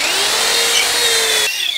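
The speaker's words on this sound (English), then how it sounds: "So now I'm gonna drill slow." A power drill bores slowly through material for a bioluminescent fungus lamp, a loud steady whine with a continuous motor tone that stops abruptly near the end, leaving a brief quieter tail.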